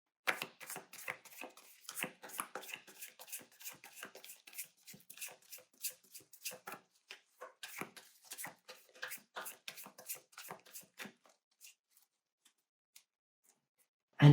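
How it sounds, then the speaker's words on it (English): Rapid, soft crisp flicks and taps of tarot cards being shuffled, close and quiet, coming in quick irregular bursts before stopping. "let's go ahead and give the cards a quick shuffle"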